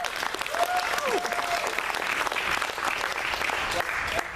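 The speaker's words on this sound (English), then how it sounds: "Can you clap or something real quick?" School assembly audience at Canyon Hills applauding, a steady wash of many hands clapping at moderate distance, with faint voices mixed in.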